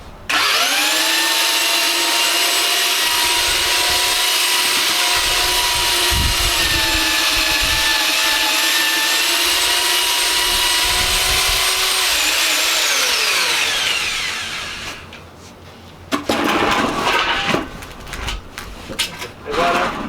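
A handheld power mixer churns render mortar mix with a loud, steady motor whine and grinding for about fifteen seconds, then winds down before brief bursts of stirring and voices.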